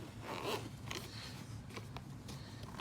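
A tight YKK-style zipper on a padded Valentine One radar detector carrying case is pulled in several short, scratchy strokes, close and quiet, with brief pauses between runs.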